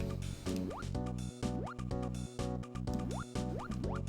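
Water splashing in a video game level, repeated bubbly droplet blips with rising pitch sweeps over looping game music, rhythmic and fairly loud.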